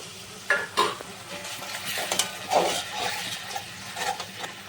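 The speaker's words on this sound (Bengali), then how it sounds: "আর সব কিছুই আমি আরও দু মিনিট মতো কষিয়ে নেবো ভালো করে" Masala paste with a splash of coconut milk stirred and sautéed in a kadai for prawn malai curry, giving a soft steady sizzle broken by scraping spoon strokes against the pan, close by with no talk.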